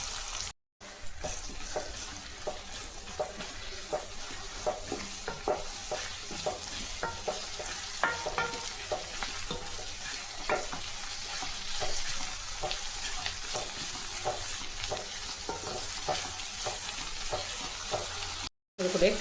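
Two large onions, sliced lengthwise, fry with urad dal in a pan: a constant close sizzle with repeated scraping strokes of a spoon, broken by two brief silent cuts, with no talking.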